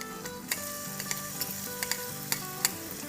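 A tablespoon of crushed garlic sizzles in three tablespoons of hot oil, a soft, steady crackle punctuated by sharp clicks and spatters, with faint music underneath.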